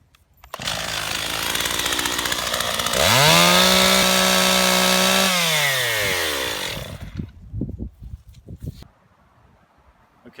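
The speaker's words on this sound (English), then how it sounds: "Next, we're gonna cut the post. That's why we bring a chainsaw." A chainsaw revs up and bites through a wooden fence post outdoors while an H-brace is being built, a loud sustained roar with a rising and falling engine pitch for several seconds before it cuts off, followed by scattered knocks and clatter.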